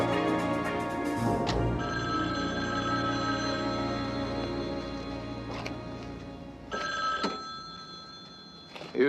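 A payphone at Griffith Park Observatory rings in a steady, sustained electronic tone that runs for most of the stretch, with a brief break and a louder burst near the end over a soft background bed.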